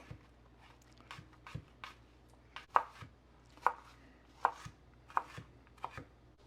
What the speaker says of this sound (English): This knife is sliding through the onions so smoothly.